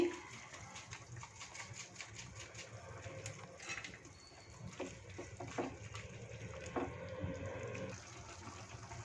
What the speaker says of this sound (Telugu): నీళ్లు మరుగుతున్నాయండి